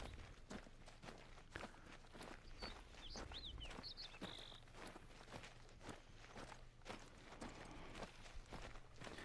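Steady footsteps crunch along outdoors while hunting on Silver Ridge Peaks in the game Hunter Call of the Wild, a regular walking rhythm close by, with faint bird chirps in the background and no talk.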